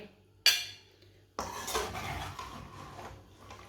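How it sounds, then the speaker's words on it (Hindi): A metal spoon scrapes and clinks against a pot and plate while serving potato masala, one sharp clank followed by a longer scraping, rattling run of utensil sounds, close and fairly quiet. "अब इसे प्लेट में डाल लेंगे"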